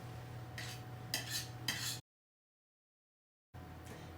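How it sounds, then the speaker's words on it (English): Ripe bananas and beans being mixed in a large bowl, three scraping, clattering strokes of a utensil against the bowl, then a gap of silence and more faint mixing. "Now I'm going to add the bananas into the large bowl with the beans and mix together."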